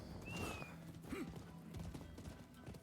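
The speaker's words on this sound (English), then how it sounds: "Where'd that horse come from?" Horse hooves clip-clopping in a video game, a soft, moderately distant rhythmic trot with a brief whinny-like cry at the start, no talking.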